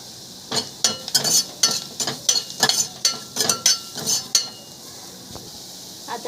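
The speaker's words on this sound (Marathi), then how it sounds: "आपण आता ड्राय मसाला घालून घेऊया, तो पण चांगला परतून घेऊया" Dry masala is fried with an onion garlic paste in a pan while a spoon stirs it, giving a rhythmic run of close scraping and clinking strokes over a low sizzle that fades out near the end.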